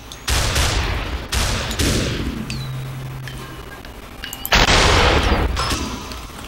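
Gunshots in the video game SUPERHOT, three or four loud booming blasts spaced a second or two apart, each with a short decaying tail, near and punchy.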